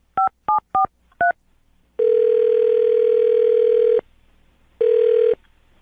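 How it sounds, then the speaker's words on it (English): Four quick telephone keypad tones, then a long steady tone and a shorter repeat of it as a phone call is placed, clear and close with no talking. "I'm going to dial her phone number right now"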